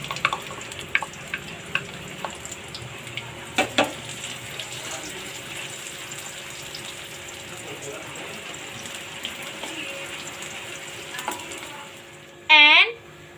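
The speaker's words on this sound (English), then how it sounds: "and saute garlic" Garlic sautéing in a pan for filled fried tofu, a steady low sizzle and crackle throughout with occasional light utensil taps, ending in a brief louder clatter.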